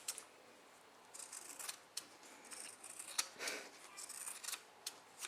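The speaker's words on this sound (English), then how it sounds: "I'm even going to trim some excess fabric away from over here" Fabric scissors cutting away excess fabric during sewing, a series of quiet, close snips and crisp slicing strokes in irregular bursts, with soft rustling between cuts.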